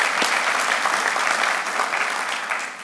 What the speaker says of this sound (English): Let's give Candace a round of applause for making this happen.